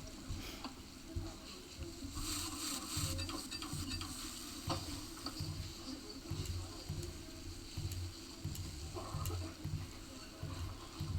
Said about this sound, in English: Ooh, the sizzle noise.